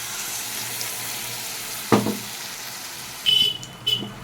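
Soaked ground cumin and chilli paste goes into hot oil for a katla fish curry, giving a steady low sizzle punctuated by a few sharp splashes and stirring clinks.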